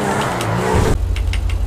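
A car engine in the video game GTA V revs hard and then holds a loud, steady low growl through most of the moment, with a brighter mixed layer of game sound before it.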